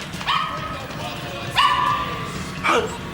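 Dog barking in a dark thriller film scene, three sharp yelping barks spaced apart, close and loud over low background rumble and muffled talk.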